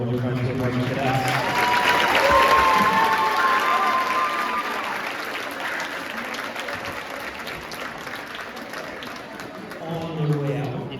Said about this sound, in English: If you can give one more big round of applause for our Woodruff Cadets.